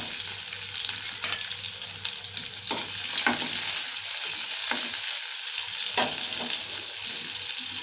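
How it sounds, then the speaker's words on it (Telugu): Mango pieces frying in hot oil in a pan for a mango and tomato pickle, a steady loud sizzle with occasional scraping stirs of a spoon, no talking. "కొంచెం ఇప్పుడు ఈ ఆయిల్లో మామిడికాయ ముక్కలు,"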